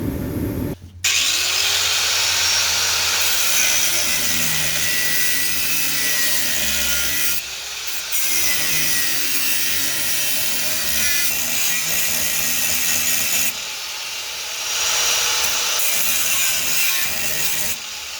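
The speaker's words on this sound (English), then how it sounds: "So I got to grind all this loose, put me a new one up here." An angle grinder works steadily on a metal front-clip hanger under a 1940 Chevy coupe, a continuous loud abrasive whine with brief pauses and restarts.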